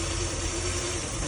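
A Crusader marine gas engine idles on a garden-hose water supply, a steady close low hum with an even drone and no voices.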